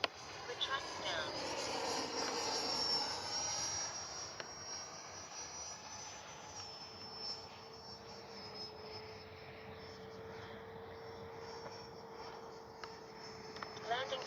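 A Freewing F/A-18C 90mm EDF RC jet flies in the evening with a steady, whining ducted-fan tone that holds high then shifts to a lower sustained drone, heard at moderate distance with brief voices and some insect chirping behind it.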